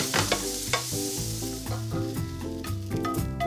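Garlic and onion stir-fry in a pan, with a loud, steady sizzle and scraping stirring strokes running throughout and no talking.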